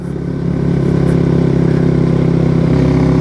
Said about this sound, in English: That's wide open fourth gear with me on it